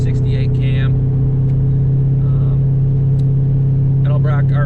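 A Pontiac Trans Am with a 350 V8 wearing Vortec heads and a Comp 268 cam drones steadily and loudly as it drives, its low rumble running continuously beneath a voice.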